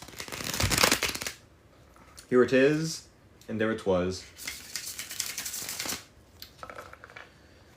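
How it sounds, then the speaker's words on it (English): A tarot deck gets a bridge shuffle: two bursts of crisp riffling card flutter, one early and a longer one later, with a person speaking briefly in between. "when I do the bridge shuffle as I'm about to do"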